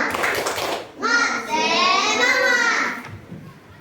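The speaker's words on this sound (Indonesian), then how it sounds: "Oke, tepuk semangat." Grade 4 schoolchildren in a classroom perform the tepuk semangat clapping chant, chanting in unison with claps for a few seconds before it fades out.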